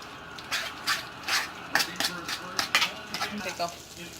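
A utensil stirs onion powder and Italian seasoning in a bowl, making irregular close clinks and scrapes against the dish; a faint voice may be present.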